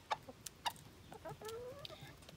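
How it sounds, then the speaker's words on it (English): A little bantam rooster clucks and calls to hens over food, a few short sharp clucks followed by softer drawn-out calls, fairly faint outdoors. "You hear the rooster making those noises?"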